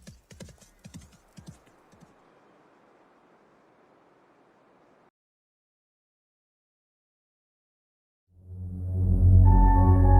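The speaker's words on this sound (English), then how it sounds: "I saw a dapple gray horse stalking along the lakeside." Horse hooves clip-clop in a short burst of several clear beats as a story sound effect, followed by a faint rustling hiss, silence, then a loud swelling rumble.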